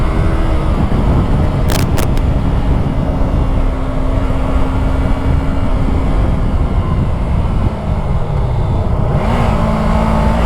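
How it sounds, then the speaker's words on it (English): An oncoming truck passes a Yamaha R3 motorcycle on a Queensland road, a brief swelling rush heard over the bike's loud, steady engine and heavy wind roar near the rider. "Oncoming truck."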